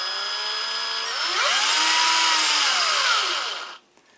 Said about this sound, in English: So that's using it with a drill.